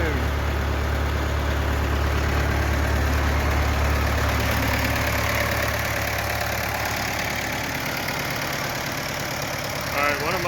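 A tractor engine idles steadily with the PTO running outdoors, a loud, continuous low rumble with a mechanical rattle that holds throughout and eases slightly toward the end.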